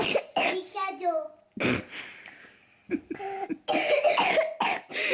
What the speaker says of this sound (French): Mets ta main quand tu tousses.